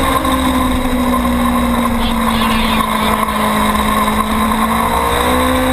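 A superstock motorcycle at a novice open road-racing event roars past on track, a loud sustained engine note with steady high revs and a slight pitch shift throughout, no talking.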